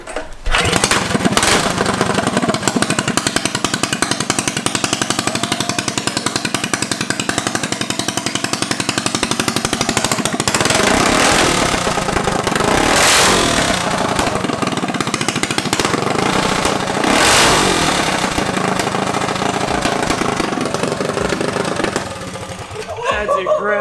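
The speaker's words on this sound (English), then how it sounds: "So let's start it up and hear it run." A racing mini bike engine, freshly built and tuned, runs continuously and loudly up close with a harsh, buzzing rattle that holds steady throughout, with faint voices in the background.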